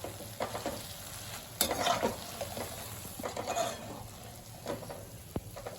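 Cheese biscuits deep-frying in hot oil in a kadai, giving a steady crackling sizzle with scattered louder pops and stirring clatter, fairly close and alone.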